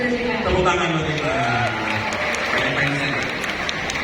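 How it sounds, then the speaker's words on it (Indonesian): An audience at a talk on mental health and self-development applauds, moderately loud clapping running under voices heard talking through it. "tepuk tangan buat kita."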